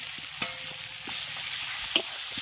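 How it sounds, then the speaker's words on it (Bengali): Thankuni (Indian pennywort) leaf paste frying and being stirred in a pan, a steady soft sizzle broken by occasional scraping knocks, close and alone without any voices. "পাতাটা দিয়ে খুব ভালো করে এটাকে আমি ভেজে নিচ্ছি"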